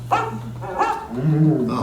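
A dog barks and yips a few times in quick succession, close and fairly loud, with a whiny, whimpering tone between barks.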